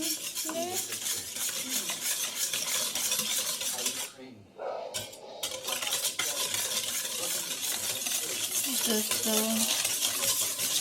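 Eggs and sugar are mixed in a bowl with a clinking, scraping utensil in continuous quick strokes, with a short pause midway. There is a little faint talk.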